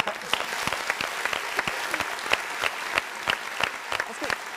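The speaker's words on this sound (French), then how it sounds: "applaudissons pour celui qui a dit" An audience claps in a loose, uneven rhythm, each sharp hand strike standing out clearly as a moderately loud, close smattering of applause that carries on without pause.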